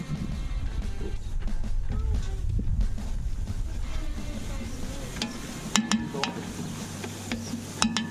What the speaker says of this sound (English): we'll leave the minced garlic in until it starts to season, or until it starts to sizzle.